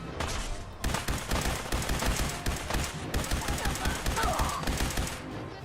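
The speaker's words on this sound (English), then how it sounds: "They were shooting at somebody." Gunfire in the video game Fallout 4 on the Misery Island mod: dense, rapid bursts of shots and a fusillade, loud and close, with brief pauses between volleys and no talking.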